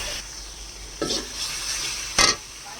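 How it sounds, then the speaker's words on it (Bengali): Cauliflower being stirred into frying spices for a Bengali cauliflower, potato and fish curry: two distinct scraping stirs, near and fairly loud, over a faint, steady sizzle. "ফুলকপিটা এখন আমি দিয়ে দিলাম মশলার ভিতরে, দিয়ে একটু নেড়ে নেব।"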